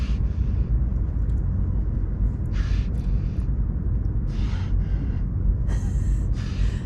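Seals breathe heavily close by, giving several short, breathy snorts and exhalations in irregular bursts over a constant low background rumble.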